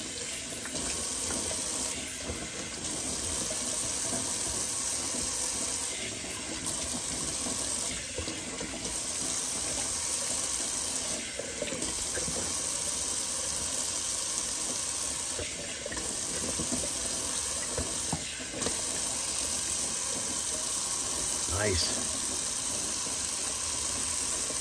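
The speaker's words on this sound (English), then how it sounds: "Gonna do a quick little cold water rinse." Cold tap water runs steadily into a sink for a long stretch, a close hissing splash with brief shifts as a shaving brush is rinsed under the stream.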